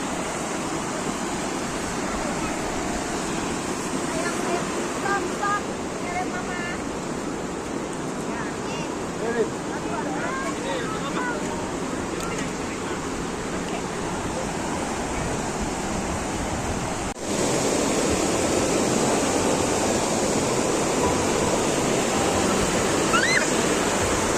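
A river at a nature park in Puncak, Bogor, flows with a constant broad rush of water that grows louder partway through, with faint voices of people in the background.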